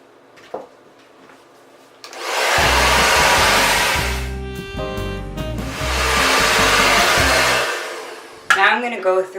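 A hair dryer blows loudly at medium heat while smoothing and adding volume to hair, running steadily for several seconds with a brief dip in the middle, then cutting off before a short clatter at the end.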